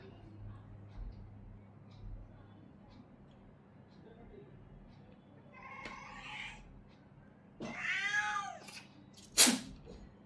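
A cat just awake from a nap gives a couple of short meows in a quiet indoor room, the clearest and loudest call near the end, with brief faint voice sounds around them.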